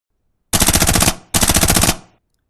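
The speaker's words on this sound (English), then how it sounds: "Shoot some more test dummies." In a VR horror game built in Unreal Engine 5, two loud bursts of rapid automatic gunfire hit test dummies, each about half a second of tightly spaced shots with a short tail, separated by a brief pause.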